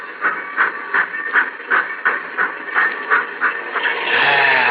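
Steam locomotive chuffing as it pulls away, a radio drama sound effect: about a dozen steady rhythmic exhaust puffs, loud and close, giving way to a continuous rushing hiss of steam at the end.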